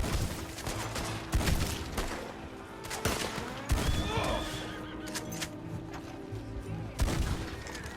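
Horses neigh and whinny during a gunfight in Red Dead Redemption 2 as more riders arrive. Repeated gunshots crack throughout, with hooves and a drawn-out whinny rising above the shooting.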